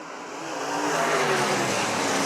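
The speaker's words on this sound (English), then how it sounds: "Brad Wilson trying to get away from Jacob Poole as the white flag comes out." Race cars on an oval track during the final lap of a feature event, engines swelling from a distance into a loud, sustained roar as the field passes close by.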